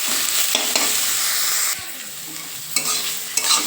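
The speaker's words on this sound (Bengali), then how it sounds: "চলো এবার নেড়ে চেড়ে দুই থেকে চার মিনিট করলেই আমার শাক ভাজা" Wilted winter mustard greens being tossed and fried in a pan give a continuous close sizzle with repeated scraping stir strokes, the hiss briefly dropping before rising again with each turn.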